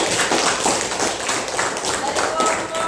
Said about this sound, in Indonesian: Oke, bertepuk tangan dulu.